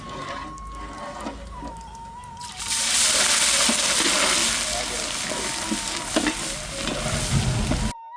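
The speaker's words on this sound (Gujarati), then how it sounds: "તો હવે નાખી દઈશું આદુ, લસણ અને મરચાની પેસ્ટ." Ginger, garlic and chili paste hits hot oil with whole spices in a village-style mixed vegetable dish, bursting into a loud, steady sizzle after a quieter start, with stirring scrapes throughout.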